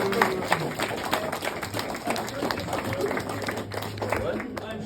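Audience applause and clapping, a dense continuous patter of hands with voices talking and calling out on top throughout.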